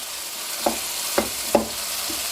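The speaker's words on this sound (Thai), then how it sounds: "ยีเนื้อให้เละได้เลยนะครับ พร้อมกับผัดคลุกเขาให้เข้ากันแบบนี้" Canned fish in chili paste being stir-fried in a pan, with a steady sizzle and three distinct scraping strokes of the spatula a few moments apart.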